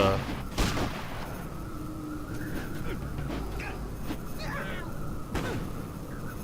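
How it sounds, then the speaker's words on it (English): Shotgun fire in the video game Fallout Tactics, several sharp blasts during a chaotic ambush with other gunfire and game noise throughout. "That shotgun is taking me down a peg."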